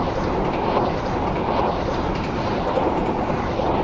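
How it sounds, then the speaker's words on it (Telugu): Steady rumble of an Indian train's engine and generator in a train simulator game, a continuous dense low drone with faint rail noise and no voices. "వెనకాల పక్క ఇంజిన్ సౌండ్ చూడండి, జనరేటర్ సౌండ్ ఏంటంటే ఒకసారి చూసినారు గైస్, జనరేటర్ సౌండ్ అనమాట"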